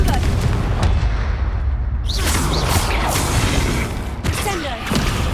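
A Confringo blasting spell in Hogwarts Legacy erupts as a loud booming blast with whooshing bursts and crackling impacts, layered over rumbling background combat noise.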